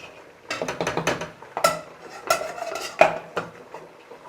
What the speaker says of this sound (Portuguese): agora eu deixo ele tampado para ele cozinhando legal